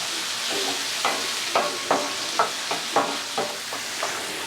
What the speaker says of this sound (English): these onions and peppers have had a chance to sweat down a little bit